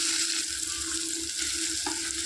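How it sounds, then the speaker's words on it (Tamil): Tomato sautéing in a hot oiled pan while making a crab fry, a steady close sizzle with a few soft stirring scrapes, no voices. "தக்காளி நல்லா வதங்கி வரட்டும்"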